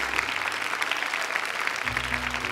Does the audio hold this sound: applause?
yes